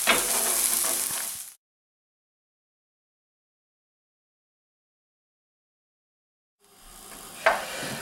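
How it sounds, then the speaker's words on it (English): Chorizo frying in a casserole pan, a steady bright sizzle for about a second and a half, then a long silent gap before the frying hiss returns with a brief stir or clatter. "I'm just going to carry on letting it fry for just another few minutes"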